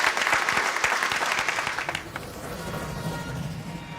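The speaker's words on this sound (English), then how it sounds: "Give him a round of applause." A studio audience at a model railway competition claps for a contestant's helicopter display, a loud burst of many hands that tapers off after about two seconds, leaving a quieter, thinning patter.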